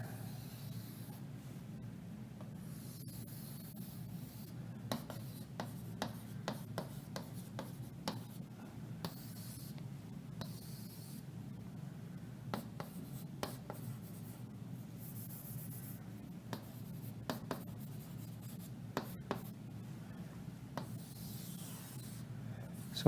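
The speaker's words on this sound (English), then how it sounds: "I'm drawing you a diagram of," A pen sketching a diagram on paper, soft continuous scratching and rubbing strokes with scattered sharper taps, close and quiet throughout with no voices.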